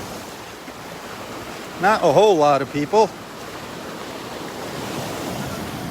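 Steady surf washes onto the beach at Delnor-Wiggins as a constant broad rush with some wind, while someone speaks briefly over it.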